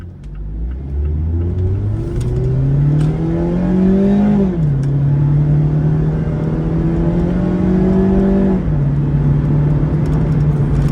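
A 2018 Mazda MX-5 Miata launches from a standstill, its engine revving up steadily through the gears with two clear shifts, loud and close inside the cabin.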